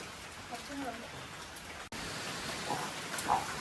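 Heavy rain driven by wind pours down in a steady, dense hiss that fills the whole clip and drops out for a moment about halfway through.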